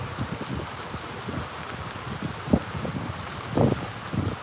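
Wind and rain from a tropical storm in Southwest Florida near Tampa Bay, heard as a steady rushing wash with gusty buffeting against the microphone and a few louder thumps, without talk.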